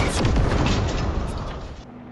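A car pushed into the middle of a lake blows up in a film scene, a loud, sustained roaring blast with crackling debris that rumbles on for about two seconds before cutting off.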